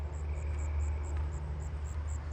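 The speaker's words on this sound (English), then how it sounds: "Hearing some more southern ground crickets right in through here." Southern ground crickets trill outdoors in a neighbourhood at night, a faint, steady series of high, regularly pulsed chirps over a low, constant rumble of distant traffic.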